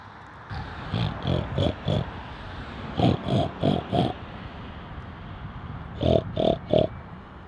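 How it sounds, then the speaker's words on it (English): Pigs on a farm grunt and oink in three quick bursts of short rhythmic snorts, close and fairly loud, separated by quiet pauses. "That sounds like a pig, doesn't it?"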